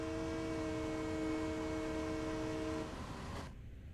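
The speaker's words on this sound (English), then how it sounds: "Can you hear the horn?" A Long Island Rail Road train horn in Train Sim World sounds from outside, one steady multi-tone blast holding for almost three seconds before cutting off, then rumble fading away.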